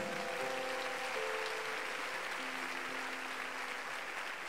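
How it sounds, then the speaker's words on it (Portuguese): Church congregation clapping together for God during a worship service, a steady wash of many hands at moderate distance, with faint sustained musical tones beneath. "Aplauda o teu Senhor, ele é Deus."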